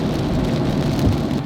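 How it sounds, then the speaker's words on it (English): Steady rain falls continuously, a dense, even hiss of drops close by with a low rumble underneath, and no voices. "Feels like it's been raining forever."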